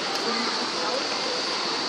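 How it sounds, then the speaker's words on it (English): Waterfall at the Disney's Wilderness Lodge pool, a loud, steady broadband rush of falling water that fills the scene without a break. "And you can see beyond there is the waterfall."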